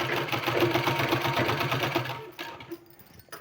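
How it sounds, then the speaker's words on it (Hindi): A sewing machine stitching a sleeve runs in a fast, even mechanical whir with rhythmic needle ticks for about two seconds, then slows and stops, close by. "यहाँ हमको इस तरह से सिलाई लगा देना है"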